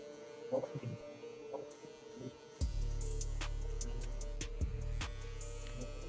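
Electric hair clipper fitted with a 1.5 guard, lever closed, cutting hair close to the scalp during a taper fade on Asian hair; after a few faint clicks it switches on and buzzes steadily and close.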